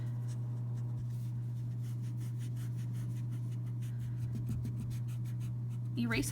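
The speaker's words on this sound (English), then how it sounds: "So now I'm going to go in and I'm going to erase out" An eraser rubs out pencil lines on a paper drawing of a stick figure, making quick repeated scrubbing strokes, close and fairly quiet, over a steady low hum.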